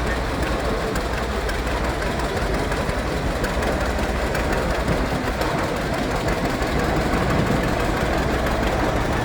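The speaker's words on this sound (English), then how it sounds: "John Deere Diesel 70, owned by Randy Shaw, driven by Kyle Shaw." A John Deere 70 diesel tractor rolls past in a parade at an outdoor show in Wolford, North Dakota, its engine giving a steady, dense rumble and rattle that stays loud and even throughout, with no voices over it.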